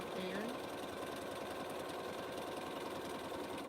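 Sewing machine running steadily while stitching quilt pieces, a continuous close mechanical hum with faint rhythmic needle clatter, a voice briefly audible at the start.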